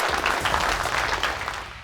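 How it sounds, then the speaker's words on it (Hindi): Audience applauding during a fashion show competition, with a short burst of brisk, dense clapping at moderate loudness that tapers slightly toward the end. "जोरदार तालियां हो जाए इनके लिए गाइस"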